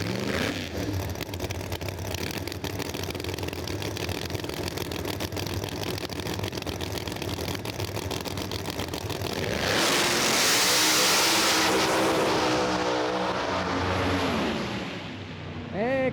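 A drag racing car makes a nitrous pass at National Trail Raceway during an Outlaws event, its engine roaring loudly and steadily before surging into a harsher, louder blast late in the run.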